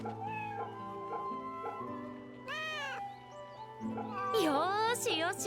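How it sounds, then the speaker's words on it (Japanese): A cat meows in the video game Fate/Samurai Remnant, two or three short rising and falling cries over a steady game music bed, moderately close. "Kitty! 猫だな。"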